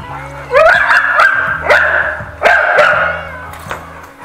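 A pit bull barks and whines repeatedly, loud and close, with sharp yelps over a low steady hum.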